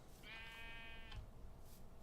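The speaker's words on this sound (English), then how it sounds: "Where'd that other white sheep go?" A single drawn-out bleat from a white sheep in Minecraft, clear and moderately close, followed by faint ambient game noise and no speech.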